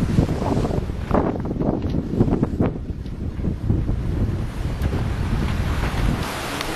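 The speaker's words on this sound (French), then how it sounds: "nous subissons un grain avec des rafales qui montent presque à 30 nœuds et donc Carole s'inquiète." Strong wind gusts and surf buffet a sailboat at sea during a squall, with gusts near 30 knots; a continuous loud roar of wind noise over sloshing, breaking waves, with no voices.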